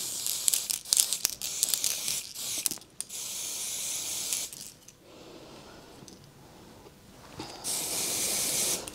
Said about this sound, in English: First we'll spray, because this is noisy.